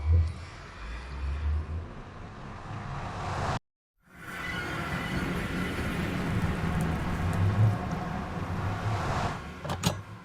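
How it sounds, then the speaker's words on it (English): Steady rain falls in a crafting video game, a dense continuous patter broken by one brief silent gap, with no talking over it. "why is it raining?"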